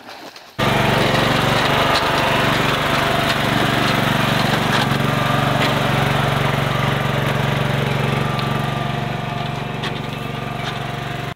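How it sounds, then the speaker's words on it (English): A toy mud mower drives through deep storm water, its small motor giving a steady, loud mechanical whir close by that runs almost continuously and fades slightly toward the end, with no talking. "do you think the mud mower can go through that?"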